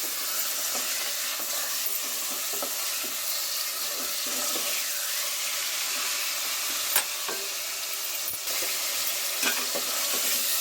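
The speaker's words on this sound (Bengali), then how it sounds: "আমি তেলের মধ্যে নেড়ে চেড়ে নিচ্ছি।" Chicken pieces fry and get stirred in hot oil in a pan for a chicken korma, a continuous loud sizzle with scraping stirs and a few sharp clatters of the utensil against the pan.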